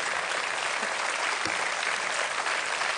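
Studio audience applauding during a live Italian comedy show, a steady dense wash of clapping that fills the whole stretch at even loudness with no voices over it.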